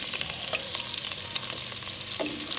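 Potatoes fry in hot ghee in a village kitchen pan, giving a dense, steady sizzle with stirring scrapes and no voices.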